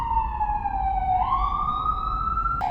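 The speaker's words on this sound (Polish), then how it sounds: "Kolejna karetka." An ambulance siren wails loudly nearby, its tone sliding down and then rising again over low traffic rumble.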